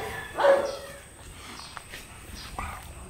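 A dog in a pack gives a single sharp bark, then soft shuffling and a fainter yip follow, close by in a quiet outdoor space.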